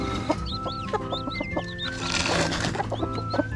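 Several backyard chickens cluck and chirp close by in short, repeated bursts, with faint bird calls overhead and no talking.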